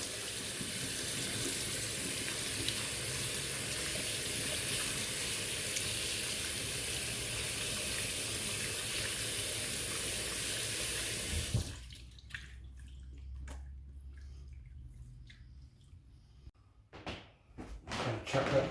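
Corned beef, just out of its plastic, rinsed under a running kitchen tap: a steady loud rush of water for about twelve seconds, then the flow stops, leaving quiet handling and a few soft knocks.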